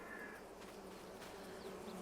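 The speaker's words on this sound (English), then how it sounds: "let's just squeeze past the bees" Bees buzz faintly in Farming Simulator 22, a quiet continuous drone under soft game ambience with occasional light bird chirps.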